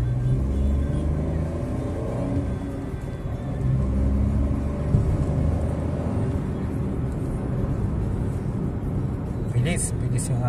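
A Suzuki S-Presso AGS with automated gearbox pulls away and accelerates, its steady engine drone and road rumble running continuously beneath talk inside the cabin, with a faint whine as it builds speed.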